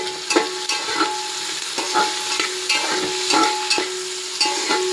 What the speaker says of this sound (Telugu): ఉల్లిపాయ మగ్గుతుంది కదండి